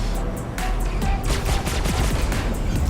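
Sustained rapid gunfire from ship-mounted guns in Star Citizen, a Drake Buccaneer versus Anvil Super Hornet dogfight, rattles on loudly and continuously over a heavy low rumble.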